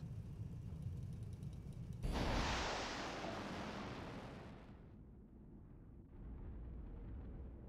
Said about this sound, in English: That was some great hits. Huge explosions.